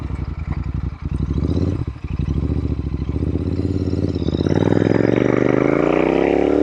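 A Royal Enfield INT/GT hybrid motorcycle, modeled after the Clymer, pulling away on a short ride, its twin-cylinder engine chugging loud and close, then revving higher and building steadily toward the end.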